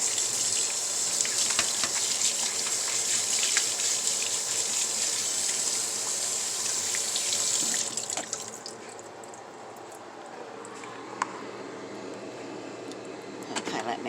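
Cooking liquid from boiled pokeweed pours steadily into a sink, a continuous splashing gush that drops off halfway through, leaving a quieter trickle and faint drips.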